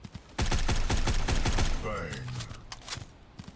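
Rapid automatic gunfire in the shooter video game Guns of Boom crackles in a dense, close burst for over a second, then tapers into scattered shots and echoing tails.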